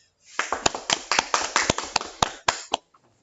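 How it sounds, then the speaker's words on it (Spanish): Applause from a seminar audience welcoming a speaker at a medical training session, a short burst of scattered, uneven hand claps that starts, swells briefly and trails off after about three seconds. "Vamos a recibirlo con un fuerte aplauso"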